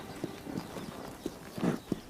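Hooves of a wild horse strike the ground in a few uneven, fairly faint thuds spaced across a couple of seconds, with no voices.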